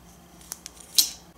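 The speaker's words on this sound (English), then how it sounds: "springy scissors" Springy scissors on a Victorinox Outrider Swiss Army knife being worked, a few small, crisp metallic clicks and snips, quiet and close, with one sharper snap near the end.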